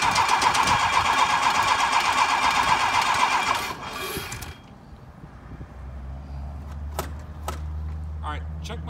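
An engine cranks with a loud, rhythmic mechanical whir, then cuts off, leaving a low steady idle rumble with scattered clanks and voices nearby.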